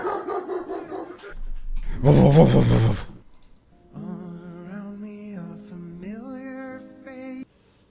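A dog barks and whines in short bursts, followed by a long, wavering howl-like vocalization that rises and falls before stopping.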